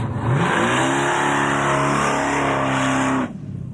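A little Mazda fitted with a V8 revs hard at the Summernats car festival, a loud, close, continuous roaring engine note held for about three seconds before cutting off sharply into background crowd noise.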